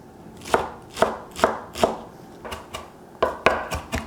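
Knife julienning a green leafy vegetable on a board, about ten crisp, evenly spaced chops close up, with no talking.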